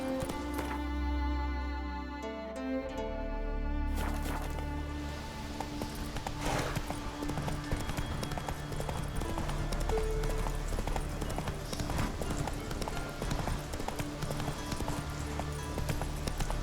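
Rhythmic clip-clop of horse hooves galloping in The Witcher 3 video game, steady and fairly close, over a soft ambient game background.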